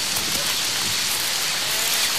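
Steady, dense rain pours on the exposed peaks of the Western Ghats, a loud, even hiss with no pauses and no voices.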